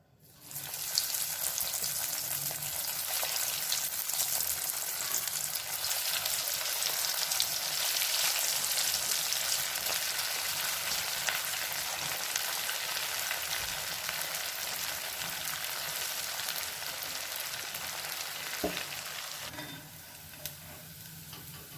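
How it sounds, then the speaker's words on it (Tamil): Idli pieces deep frying in hot oil, a steady loud sizzle and crackle that runs continuously and alone, easing slightly near the end. "நம்ம இதே மாதிரியே எல்லா இட்லியும் பொரிச்சு எடுத்துடலாம்."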